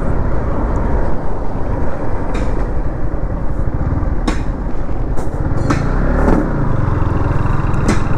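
A Yamaha MT-15 motorcycle ridden at speed, giving a loud, steady roar of engine and rushing wind with no letup and a few brief clatters on top.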